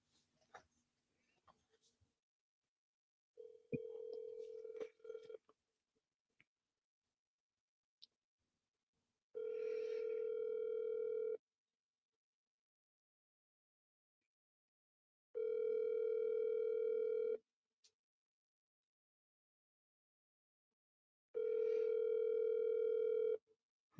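Ringback tone on an outgoing phone call: a steady electronic tone sounding in evenly spaced bursts about two seconds long, separated by quiet gaps of several seconds, clear and moderately loud, with a little faint handling noise at the start.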